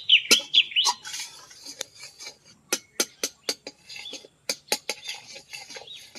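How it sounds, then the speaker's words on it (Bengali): Milk being stirred in a pan over low heat while making gujiya sandesh, a spoon scraping and clinking against the metal in a string of sharp, close taps and scrapes, with a few brief chirpy squeaks near the start. "দুধটা কেউ নাড়তে হবে যাতে না বসে যায়"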